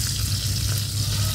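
Continuous hissing and crackling of eggplant frying in hot oil, close and steady, with no voices.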